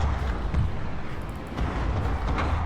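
Cannon artillery fire in the video game Total War Shogun 2: Fall of the Samurai, a continuous roar of booming, overlapping blasts and rumbling impacts across a battlefield, dense and sustained with no speech.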